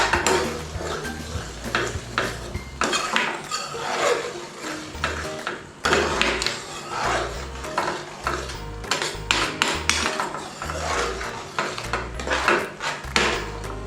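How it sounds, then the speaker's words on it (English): Mango pulp being stirred into chicken curry in a pan, a spoon scraping and knocking against the metal in a steady irregular rhythm over background music. "give that a little bit of a stirring through"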